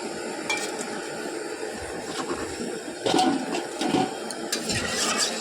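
Pointed gourd and potato fry in a pan with a steady, close sizzle, while a utensil now and then scrapes and stirs, giving louder bursts near the end.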